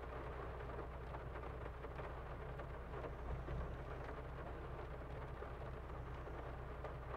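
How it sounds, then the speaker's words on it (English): Steady rain falls in a video game about felling trees on deer lands, a dense continuous hiss with low rumbling underneath, holding even and loud throughout with no voices. "It's raining out."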